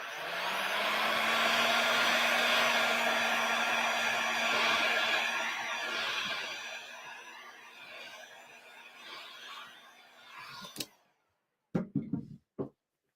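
Hair dryer drying fresh paint, blowing loud and steady at close range for about ten seconds. The airflow wavers as it moves, then the dryer shuts off, followed by a few sharp knocks and handling clicks.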